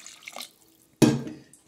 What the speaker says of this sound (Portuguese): E agora eu vou colocar a água.